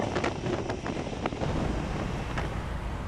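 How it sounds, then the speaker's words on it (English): Gusty wind buffets the microphone in low rumbling bursts while riding a Suzuki V-Strom 650 motorcycle, a continuous roar with some brief crackles and no voices. "Still quite windy."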